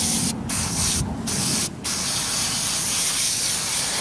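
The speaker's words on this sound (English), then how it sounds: "We're going to put this Pro Foam on there just because it coats it just a little bit better." Pro Foam sprayed onto a cow's udder in short hissing bursts, three brief breaks separating the spray before a continuous hiss carries through to the end, fairly close.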